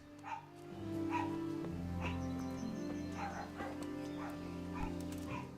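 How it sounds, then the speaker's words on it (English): Pet dogs barking faintly in a room in the background, several separate woofs and yips spread across a few seconds under a steady electronic hum. "Sorry if you can hear my dogs barking."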